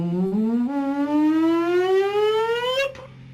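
A voice imitates a siren, one sustained whoop that glides steadily upward in pitch over about three seconds and then cuts off, clear and alone.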